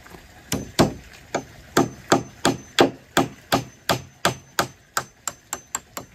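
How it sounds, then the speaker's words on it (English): Steady hammer blows drive in hammer fixings close by, about a dozen sharp metallic knocks in an even rhythm, with no talking. "These are hammer fixings, in case you were wondering."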